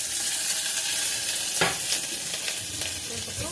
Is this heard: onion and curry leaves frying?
yes